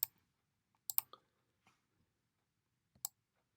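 Faint, sparse computer mouse clicks while working in Adobe Illustrator, a quick double click near the start and a single click later, close and dry in a quiet room.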